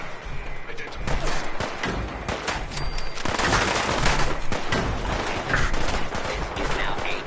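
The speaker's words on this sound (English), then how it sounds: "The cannons are ready. Fire at will." Cannons fire in the video game Fallout 4: a dense, sustained barrage of booming blasts and crackling volleys that rolls on loud and continuous throughout.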